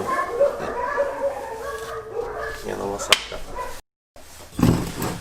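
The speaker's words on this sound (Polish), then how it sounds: "te wszystkie psy na mojej ulicy, wszystkie zaczynają szczekać od razu" Several dogs bark and yip out on a residential street, fairly distant and intermittent, while someone talks over them close by.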